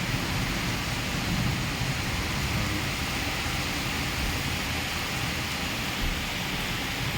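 Steady rain pours down in a continuous, even wash of broadband hiss and patter, dense and close, with no pauses or voices across the whole stretch.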